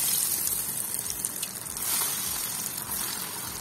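Cauliflower florets coated in batter frying in hot oil at about 160 degrees, giving a steady, dense hiss and crackle that stays fairly loud throughout with no voices.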